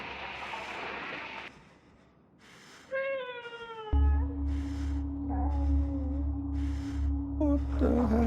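A cat in the horror video game Conarium lets out a drawn-out, wavering meow over a hushed ambience, followed by a low, heavy drone and a few shorter mews.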